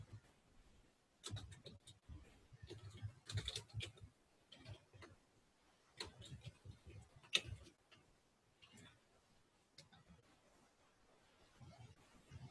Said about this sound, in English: So we're keying in the data just to kind of test this out.